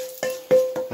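Hot garlic-fried topping (pârgălaș) poured over new potatoes, giving short bursts of sizzling and stirring at close range, three to four sharp spatters with a brief tonal whine between them.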